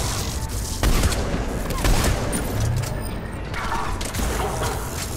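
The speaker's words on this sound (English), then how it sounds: "What the fuck shot me?" Gunfire aimed at the player in Mass Effect 3's Omega DLC, a busy, continuous battle din with several sharper shot peaks and rumbling low end, with no clear speech.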